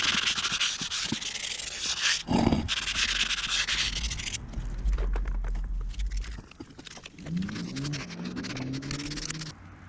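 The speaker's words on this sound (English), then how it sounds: "I'm going to go ahead and sand up the rim real quick." Sandpaper of 220 grit rubbed back and forth over a motorcycle wheel rim during a leaking-bead tire repair, a steady close scraping that pauses and shifts pace, with a few faint knocks.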